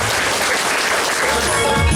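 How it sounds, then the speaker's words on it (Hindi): A crowd at a Safe Shop seminar claps loudly and continuously, a thick, close wash of applause with no pauses across the short stretch. "तालियां जोरदार तालियां।"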